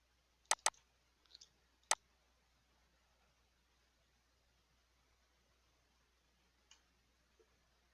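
Sharp, close mouse clicks, a few in quick succession followed by a couple of fainter ones, in an otherwise quiet room.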